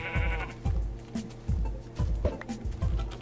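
Sheep in the Minecraft video game bleat in a quick series of short, loud, repeated calls at close range, with no talking.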